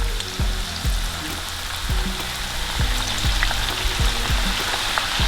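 Plantain slices deep-fry in hot oil for plantain chips, giving a loud, steady bubbling sizzle punctuated by repeated low knocks and clunks from the pan, close up with no voices.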